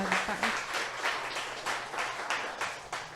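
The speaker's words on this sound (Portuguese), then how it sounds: "Dê um aplauso a Jesus." A church congregation at a family seminar claps in a steady, rhythmic pulse of applause. It is moderately loud and fairly close.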